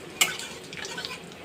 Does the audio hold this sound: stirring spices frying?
yes